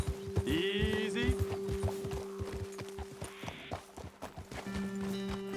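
Horses walking in Red Dead Redemption 2, hooves clip-clopping in a steady close rhythm, with a whinny, tonal music and voices talking over it.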